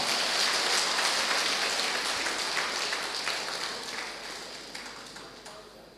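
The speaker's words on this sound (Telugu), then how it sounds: "ఇప్పుడైనా చప్పట్లు తట్టండి గట్టిగా" A large audience bursts into loud, dense applause at a speech, a thick crackling wash of clapping that slowly thins and tapers over several seconds.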